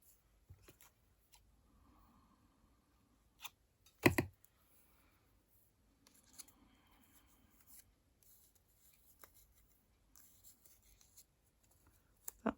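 Paper being cut for a junk journal, sparse soft snips and rustles in a quiet room with one sharper crunch near the middle and no speech.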